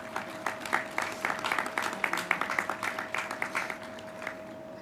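A graduation audience at Tesla Educational Opportunity School in 2021 claps. Quick, crisp handclaps form a steady round of applause that gradually thins out, with a faint constant tone running underneath.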